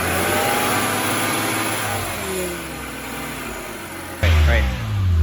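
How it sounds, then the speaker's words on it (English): A BMW E90 engine, its radiator leak patched with JB Weld, runs steadily nearby, then a sudden loud rev surges near the end, with speech-like sound mixed into the running engine. "I'm gonna give it a little rev."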